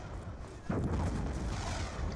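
A single heavy launch thump from the War Machine grenade launcher in Call of Duty Black Ops 2, followed by a sustained rumbling blast and battle noise at moderate loudness.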